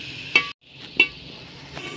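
Eggplant pieces fry in a pan, a steady soft sizzle with a few brief stirring clicks and a short pause, heard alone without talk.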